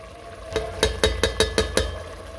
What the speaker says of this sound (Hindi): सब मसाले डालकर इसे तकरीबन 5 मिनट भूनेंगे।